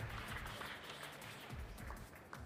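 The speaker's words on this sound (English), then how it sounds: "Big round of applause for Farmigo." Audience applause rising for the Farmigo startup team coming on stage at a tech startup competition, a steady wash of many hands clapping at moderate volume throughout.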